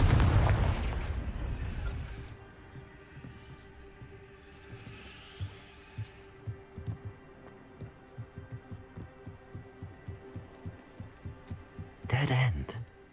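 A Confringo blasting spell goes off in Hogwarts Legacy with a loud burst at the start, followed by a series of dull rhythmic thuds and a second sharp blast near the end, heard alone without talk.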